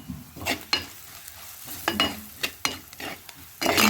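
Chili powder frying in a pan for a sardine curry, with a soft sizzle under repeated scraping stirs that come in short, uneven strokes, close and fairly quiet, with no talking.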